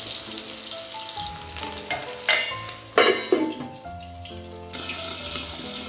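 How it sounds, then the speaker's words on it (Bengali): Bottle gourd stems are stirred in a frying pan with salt, giving scraping and clattering strokes over a steady sizzle, with background music running underneath. "এবারে একটু নাড়াচাড়া করে নিই।"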